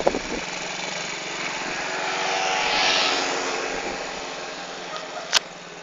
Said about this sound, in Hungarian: Hadd menjen el a motoros!